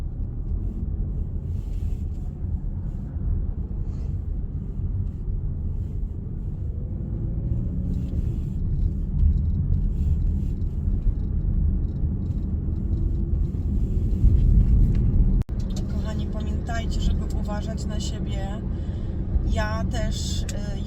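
Low, steady engine and tire rumble of a car moving along a road, heard from inside the cabin, with a brief clunk partway through and a voice talking over the later part.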